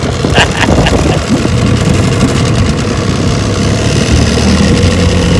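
A 1968 Johnson 9.5 HP outboard motor starts and settles into a loud, close, rumbling idle, a steady low engine drone with no talking.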